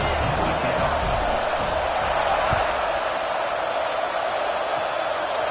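Stadium crowd at a football game before a kickoff, a steady broad roar of many voices filling the clip at constant loudness, with no single voice standing out.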